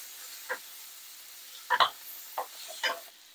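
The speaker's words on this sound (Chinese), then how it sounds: "翻炒一下。" Cabbage stir-fried in a wok, a few short scraping tosses spaced out over quiet, soft sizzling background, fairly faint and with no speech.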